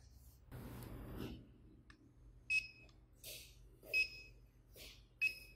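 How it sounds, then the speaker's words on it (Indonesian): Buzzer on a CODY T12MAX soldering station giving three short, sharp electronic beeps spaced about 1.3 seconds apart, fairly quiet against a faint background hum after a brief rustle. "Jika on, jika Anda mengatur suhu ataupun mengatur mode akan terdengar suara"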